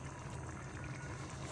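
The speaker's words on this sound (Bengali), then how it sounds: "একটু পানি দিয়ে দিতেছি।" Water poured into a cooking pan of chickpea lentils, a brief, faint, steady pouring wash with no other sounds.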